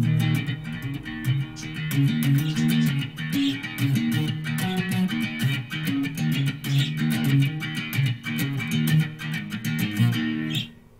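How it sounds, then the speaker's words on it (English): A distorted electric guitar through a Behringer V-Amp Pro chorus preset plays a steady, busy riff with a shimmering, doubled chorus texture, loud and continuous for the whole stretch with no voices. "Chorus."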